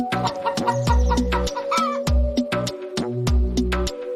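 A chicken clucks and squawks in short repeated bursts with a rhythmic low thumping pattern underneath, bright and close, with no talk.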